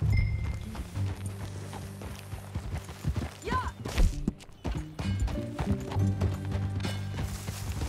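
Steady clip-clop of horse hooves walking at an even pace in the video game Red Dead Redemption 2, with a low musical drone underneath and a brief spoken word.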